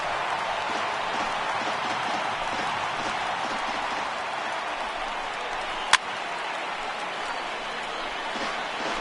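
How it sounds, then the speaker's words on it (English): A home baseball crowd of over 30,000 roars steadily as the Padres close out the final out in the ninth, a dense, far-off wash of cheering and applause with one sharp crack partway through. "the home crowd is loving it"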